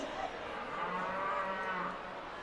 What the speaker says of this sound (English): Can everybody say moo?